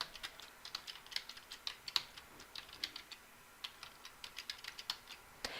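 Findings typed on a computer keyboard make quick, light clicking keystrokes in uneven bursts, close and fairly quiet, with no voices.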